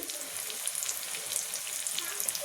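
An egg and spice mixture frying over a layer of potato, giving a continuous bright sizzle and crackle with fine popping throughout, close and fairly loud.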